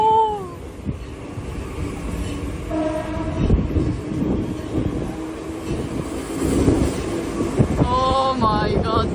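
A train passes close by at night in Mumbai, a loud continuous rumble and clatter of wagons with horn-like tonal blasts near the start and end, and a few voices in the background.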